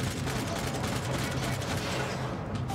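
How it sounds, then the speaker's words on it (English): Dense, continuous gunfire from the video game Max Payne 3, a steady loud barrage of overlapping shots with no clear gaps throughout. "There's someone shooting from over there."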